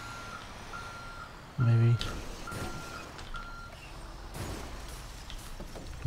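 A garbage truck in the FiveM game sounds its reversing alarm, evenly spaced electronic beeps repeating over a low engine rumble, with a brief loud thump partway through and someone talking over it.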